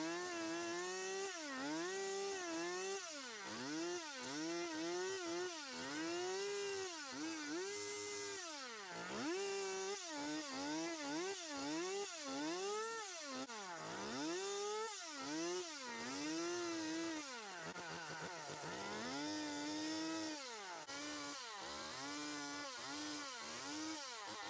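A chainsaw carves a quick wooden bear, its engine revving up and down continuously in rapid, uneven surges, loud and close with no talking.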